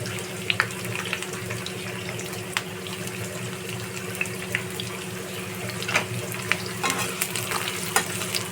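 Chopped onions go into a pan of lightly browned garlic and sizzle with a constant, close hiss. Small pops and spatula clicks recur throughout, and no one speaks.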